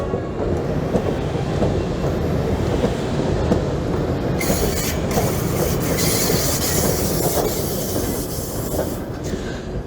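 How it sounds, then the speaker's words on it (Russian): A Czechoslovak-built ChS7 electric locomotive arrives at Bolshevo station pulling passenger coaches, with a loud, continuous rumble, rhythmic wheel clatter and squealing wheels close by. "А все потому, что прибывает электровоз, который везет классные вагоны."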